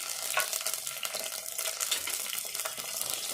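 Green chillies, mint and coriander are stirred in a frying pan, giving a steady close sizzle with continuous scraping and tossing from the spoon and no talking.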